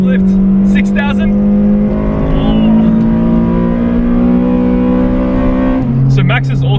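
A Toyota Corolla with an aftermarket exhaust holds a loud, high, steady engine tone close by and drops in pitch near the end, while a person talks over it.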